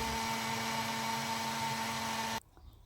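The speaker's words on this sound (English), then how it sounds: "Give this a good blend in the blender jar." A blender whirs steadily at high speed blending a sesame seed sauce with water and black pepper, with a strong motor hum, then cuts off abruptly near the end, leaving a few faint clunks.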